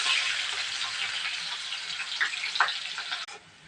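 Sliced onion sizzles steadily in hot oil in a pan, the start of a Malabar spinach, potato and prawn curry, a close continuous frying hiss with a few soft stirring clicks.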